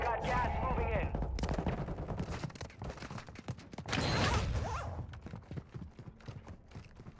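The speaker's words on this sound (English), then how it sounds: "They were baiting with that gunfire." Bursts of gunfire ring out in an online shooter video game, rapid cracks scattered through the clip with a louder volley midway, mixed with game sounds and overlapping voices.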